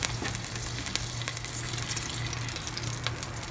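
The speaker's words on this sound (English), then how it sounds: "we are adding 1 tablespoon of butter and few teaspoons of oil" Butter and a few teaspoons of oil heating in a pan for malai kofta gravy make a continuous close sizzle and crackle with small pops, with no talk.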